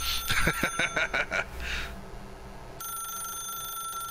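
A telephone rings inside The Stanley Parable, a burst of rapid bell-like trills over the first two seconds, then a steady electronic tone in a quiet room.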